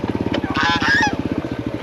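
Free-range turkeys and geese on a farm give a dense run of rapid, rhythmic gobbling and honking calls, loud and close, with a brief higher squawk partway through.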